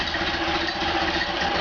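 A rebuilt Ford Model A engine idles steadily on a stand with its exhaust held up by a jack stand, giving a close, even, continuous rumble with no talk.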